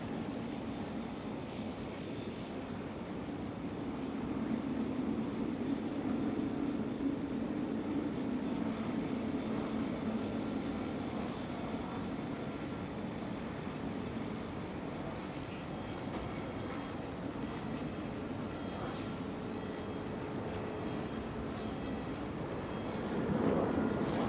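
A Turkish Airlines Airbus A330 jet taking off at Amsterdam Schiphol, heard from a distance as a steady low engine roar that holds for the whole stretch and swells slightly near the end.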